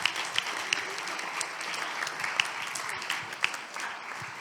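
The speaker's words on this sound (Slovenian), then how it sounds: "Mislim, da si vsi zaslužimo en velik aplavz." An audience at the end of a two-hour panel discussion on youth mental health breaks into steady applause, a continuous crackle of many hands with a few sharper claps standing out.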